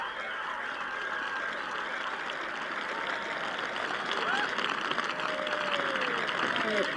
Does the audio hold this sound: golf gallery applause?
yes